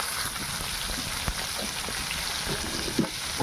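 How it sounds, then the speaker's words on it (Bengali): Bitter gourd fries in oil with a little salt and turmeric, giving off a steady close sizzle with occasional soft pops and spits. "উচ্ছেগুলো তেলের মধ্যে ভেজে নেব"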